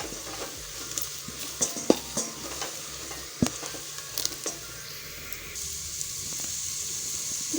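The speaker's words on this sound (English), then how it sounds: "I'm going to stir this very well." Pilau with raisins being stirred in a pot, a spoon scraping and clinking against the metal in irregular knocks over a soft, steady sizzle of frying, fairly quiet and close with no voices.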